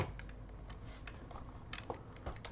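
Numeric keypad keys are tapped on a computer keyboard for 3D viewport navigation, a string of light, fairly quiet clicks at uneven intervals over a low background hum, with no speech.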